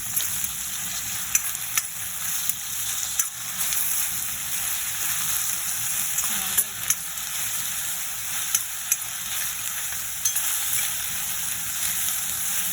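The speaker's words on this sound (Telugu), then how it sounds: "అల్లం తెల్లుల్లి పేస్ట్ 1 స్పూన్ వేసుకొని బాగా కలపాలి" Ginger garlic paste hitting hot oil over browned onions in a pan for Chettinad pepper chicken, a loud continuous hiss and sizzle with occasional ticks and a brief scrape of stirring, no talking.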